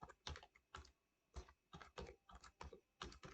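Rapid bursts of computer keyboard typing as a company name is entered in Tally Prime accounting software, close and distinct, with about a dozen clustered keystroke groups and no talking.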